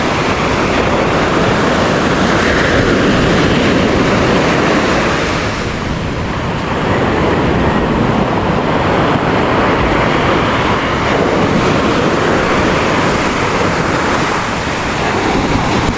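Heavy ocean surf pounding a shore in rough seas, a continuous loud roar of breaking waves with gusting wind buffeting the microphone throughout.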